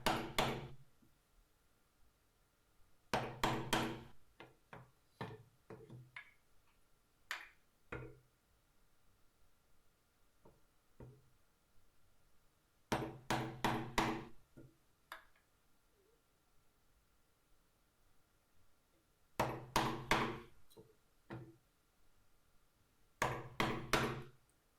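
A chisel is struck into soft pine in bursts of sharp mallet blows and cracking cuts, with quieter gaps between them and an occasional lone knock. There is no talking.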